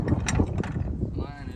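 Wrench cranking down a 1/2 inch bolt during a mower chute installation: a quick series of close, rattling ratchet clicks and metallic turning sounds.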